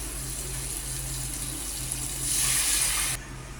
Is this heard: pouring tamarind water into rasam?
yes